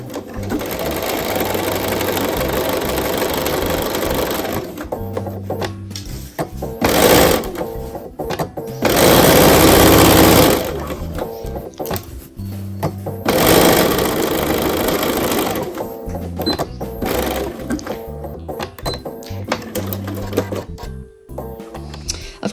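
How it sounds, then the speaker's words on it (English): A sewing machine stitches a half-inch seam along a pinned edge, adding pockets to a vintage dress. It runs in loud bursts of rapid mechanical chatter, broken by brief pauses and several sharp stops and restarts. "I'm going to sew along the pinned edge at a 1/2 inch seam"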